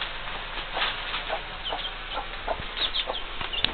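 A flock of backyard chickens cluck and murmur close by, a busy overlapping run of short soft clucks with occasional sharper notes and no talking.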